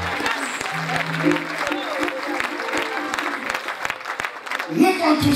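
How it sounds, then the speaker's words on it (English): A church congregation claps hands in a steady rhythmic beat, with crowd voices and talk mixed in over the clapping. "May you clap your hands unto Jesus."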